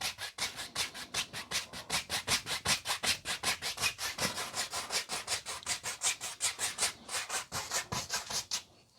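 A thick spot of paint is rubbed out on a painting in steady, rapid back-and-forth strokes, about four per second, scratchy and close, continuing evenly for the whole stretch with no talking.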